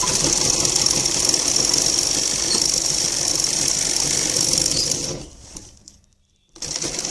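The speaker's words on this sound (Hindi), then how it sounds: "अब हम इस पर स्टिचिंग लगाएंगे।" A sewing machine runs steadily while stitching an Afghani salwar, a continuous close whirring hum for about five seconds that then stops, brief quiet, before the motor starts up again.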